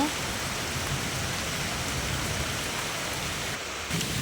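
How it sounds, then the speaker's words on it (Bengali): Steady rain falls outdoors as a dense, even hiss of drops with no other sounds rising above it. "এই দেখো বৃষ্টি পড়া শুরু হয়ে গেছে"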